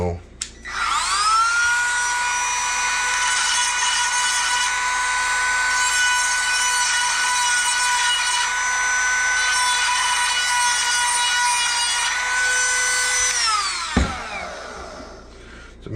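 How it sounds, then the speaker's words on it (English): A Dremel rotary tool whines steadily at high speed for about thirteen seconds while honing a slightly tight part of a bathroom fan during a motor replacement, then spins down, close and loud. "Give me a little Dremel."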